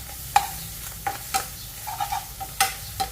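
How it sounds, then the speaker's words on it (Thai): Instant noodles with chili are stir-fried in a pan, with a series of scraping and clinking spatula strokes over a soft, continuous sizzle. "แล้วก็ผัด"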